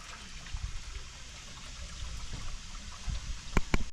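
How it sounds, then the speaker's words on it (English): Water trickling and running into a rabbits' water container, a steady soft flow with a few brief louder clunks near the end. "we got the rabbits' water filling up"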